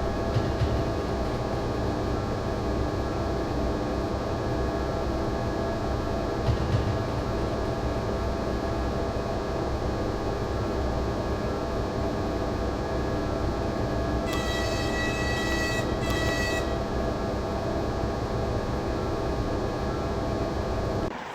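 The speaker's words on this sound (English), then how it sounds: "I must admit the running sounds on the wagons are top-notch." Train wagons behind a ČD Series 163 locomotive roll along steadily in the Train Sim World video game, a constant loud rumbling drone with a brief high tone near the end.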